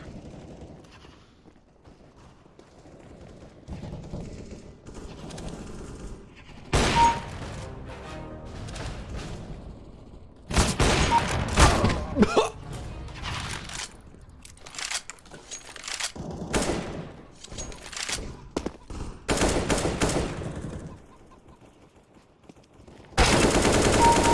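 Bursts of AK rifle fire in a video game, several loud sustained volleys separated by quieter stretches of game ambience, the heaviest bursts coming near the middle and at the very end.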